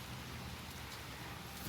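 Light rain falling outdoors near woods at a beach, a steady soft hiss of drops, even and continuous with no voices.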